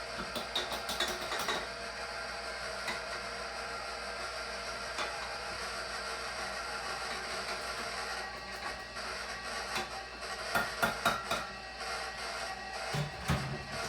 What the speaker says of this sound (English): You're going to turn your mixer down and add your powdered sugar.